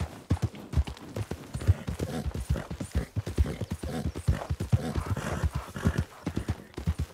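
Horse hooves clip-clopping in the Western video game Dead West RP, a steady rhythmic stream of close, crisp hoof strikes with an occasional whinny.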